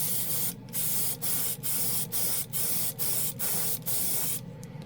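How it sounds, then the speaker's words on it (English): A spray gun lays a 2K clear coat over chrome paint in repeated close bursts of hissing spray, about seven evenly spaced passes separated by brief gaps, loud and steady with no talk. "Let's go ahead and put another coat on top of this."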